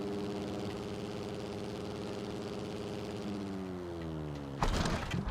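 A Yamaha 250 four-stroke dirt bike engine in the MX vs. ATV Legends racing game drones steadily at a constant pitch. It then drops sharply in tone, and a loud burst of noise cuts in near the end.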